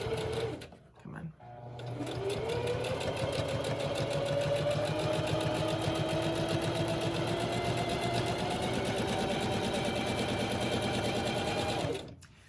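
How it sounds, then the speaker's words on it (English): Sewing machine stitching a fabric face mask, a rapid, steady mechanical whir running for about ten seconds after a short start-up, close and fairly loud, with a voice briefly at the start. "When I get to the corner, I like to do the pivot method, but you can just sew around the corner"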